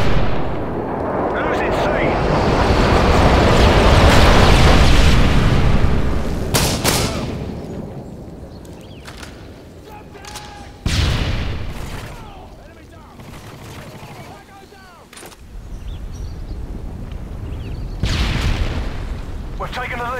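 Heavy airstrike bombs boom and rumble in a Modern Warfare 3 multiplayer match, loud, sustained blasts with several sharp impacts, under a game announcer voice.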